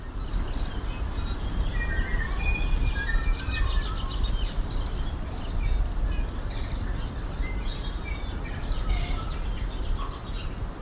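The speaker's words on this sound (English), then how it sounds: "wonderful sounds of birds in the rain with the sea in the background" Several birds, including tui, chirp and sing over a steady wash of rain and low rumbling surf, the calls scattered and moderately close throughout.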